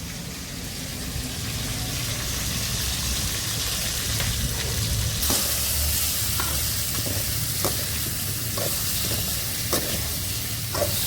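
Steady, close sizzling of spices frying in hot oil for a sweet raw mango pachadi, with occasional scraping taps of a spoon stirring the pan.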